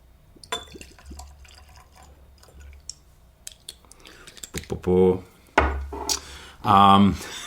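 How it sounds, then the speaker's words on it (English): Mezcal poured into glasses in a home tasting, with soft liquid trickles and glass clinks in the first seconds, then louder bursts of close speech that largely cover the pouring. "Let me get the rest of these poured."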